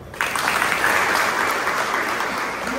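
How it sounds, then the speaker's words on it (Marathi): Loud, dense applause from a crowd at a village assembly starts suddenly and keeps up evenly until the end. "पण आता जोरात टाळ्या वाजवा"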